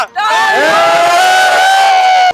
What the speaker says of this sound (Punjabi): ਸੋ ਤਾੜੀਆਂ